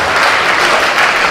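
A dense, loud burst of audience applause at a distinguished graduates ceremony, honoring inductees, continuous clapping filling the whole moment.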